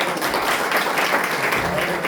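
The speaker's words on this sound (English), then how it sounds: "Give big round of applause for them" Audience applause at a valedictory ceremony, dense steady clapping from a crowd holding an even level throughout, with no voice over it.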